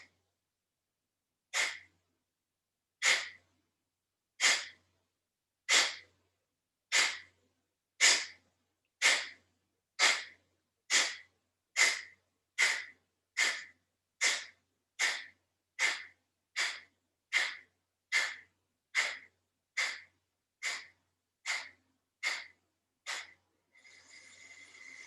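Pranayama yoga breathing, Kapalabhati-style: about twenty sharp, forceful exhalations through the nose in a steady rhythm that quickens slightly toward the end, then a longer breath, close and alone in a quiet room.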